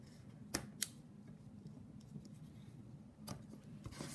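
Scissors trim ribbon tails on a handmade paper gift box, giving a few sharp, close snips spaced apart over a faint room hum.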